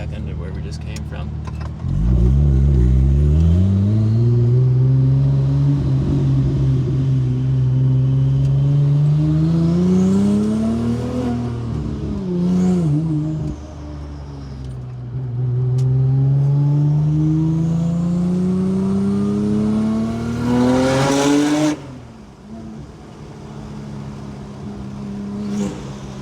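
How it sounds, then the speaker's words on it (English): A modified Porsche 996 Turbo with a BBI barcode exhaust pulling repeatedly through the revs, a loud, close engine note climbing and dropping between shifts, then easing off to a lower idle-like burble at the end. "This was a BBI Auto Sport kind of, I think they called it a BBI barcode exhaust."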